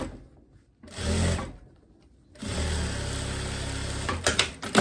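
A sewing machine stitches fabric for a back finish in two bursts of steady, close mechanical whirring with rapid needle ticking, separated by a pause of quiet.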